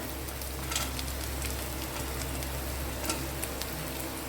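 Ginger and garlic frying lightly in a pan for a Bengali fish-head dish, a steady low sizzle with faint scrapes of stirring, close and unbroken, no voices.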